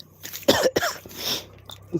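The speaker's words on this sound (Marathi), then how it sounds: "खोकला आहे व्हायरल इन्फेक्शन झालं आहे" A man coughs several times in short, harsh bursts close to the microphone, suffering from a viral infection while digging outdoors in rural Konkan.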